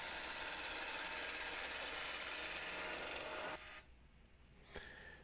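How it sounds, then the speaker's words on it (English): Wood lathe spinning a blank between centers while a spindle roughing gouge cuts it round: a steady close scraping whir that stops abruptly, leaving a fainter hum with a brief knock near the end. "I just mount it between centers on my 24-36 lathe and make it round using a spindle roughing gouge"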